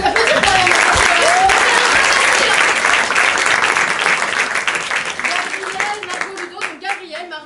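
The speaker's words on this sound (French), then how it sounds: "On peut les applaudir quand même." An audience at an improv theatre festival in France breaks into strong applause, dense clapping that holds steady and then thins out and fades near the end, with a few voices mixed in.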